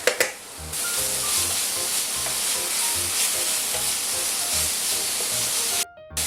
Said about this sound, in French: Une fois que ça grésille,